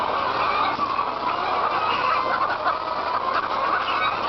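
Laying hens on a factory farm cluck and murmur together in a dense, continuous din. The sound is fairly loud and unbroken, with a low mechanical hum underneath.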